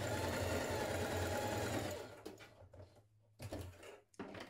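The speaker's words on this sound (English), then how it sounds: "you're going to stitch the underarms of your facing pieces together here." A sewing machine stitches the underarm seams of dress facing pieces, running in a steady continuous whir for about two seconds, then starting and stopping in short bursts with pauses between.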